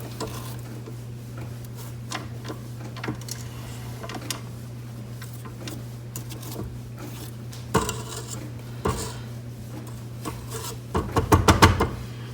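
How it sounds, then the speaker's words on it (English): A spatula scrapes a metal mixing bowl and a mixer paddle while cookie dough is being made, giving light intermittent scrapes and taps over a steady low hum, ending in a brief cluster of louder clanks. "So I'm gonna scrape my bowl and my paddle."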